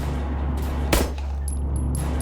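A single sharp gunshot from the video game SIGNALIS cracks out once, loud and close, over a steady droning game ambience with faint high tones.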